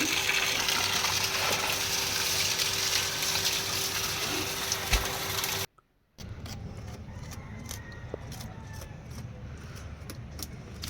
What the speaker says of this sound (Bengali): এখন এখানে আমি ওলটা ধুয়ে নিচ্ছি একটু